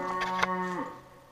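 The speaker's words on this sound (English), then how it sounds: "Sorry about the cows." Farm cows moo, hungry and expecting feed, one long low bellow with rising and falling tones close to the microphone, fading as the call ends.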